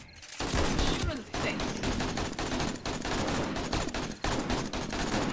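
Rapid video game gunfire, a dense fusillade of loud, close shots and automatic bursts firing almost continuously with only brief gaps, under a busy in-game soundscape.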